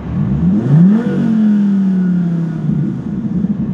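A Gen V Dodge Viper V10 revs hard toward redline, its pitch climbing sharply then easing off into a steady, loud, close engine drone with no talking.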